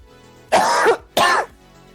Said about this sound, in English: he keeps coughing like crazy